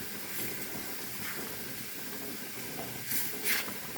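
Theeyal curry simmering in a pot, a steady soft bubbling hiss with a couple of brief louder bursts near the end, no talk.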